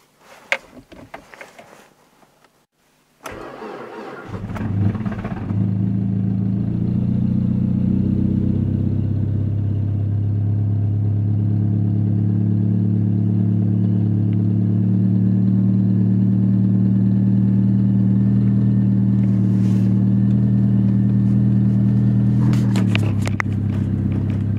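A Mazda 626 with a 1.8 engine cold-starts at -25°C: a few sputtering cranks and a pause, then it catches into a loud, steady, close-up running drone with rough low clatter that holds until a brief rev near the end.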